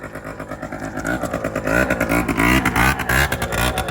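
A scooter passes at close range with a loud, buzzing engine whose pitch rises and then warbles as the rider revs, and the sound stays close throughout.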